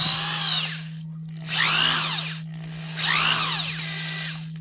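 The gearbox of a corded Ryobi D48C clutch driver drill whirs through three separate spin-ups, each rising and falling in pitch. A steady low hum runs underneath, and the sound is loud and close.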